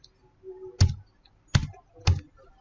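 A few separate computer keyboard keystrokes, three sharp clicks spaced about half a second to a second apart, close and clear with no voices, as someone enters values into statistics software.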